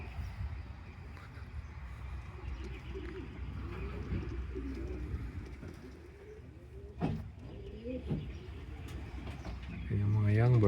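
Young racing pigeons coo softly in a flyers loft in London, Ontario, low and continuous over a steady background hum. Faint voices are heard near the end.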